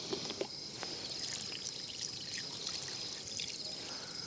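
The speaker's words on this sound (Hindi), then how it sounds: "फिर भी हम लोग 1-2 बार इसको धो लेते हैं।" Water trickling and pouring while raw chicken is rinsed at an outdoor campsite, a soft continuous stream with a couple of faint knocks near the start, fairly quiet with a high steady whine behind it.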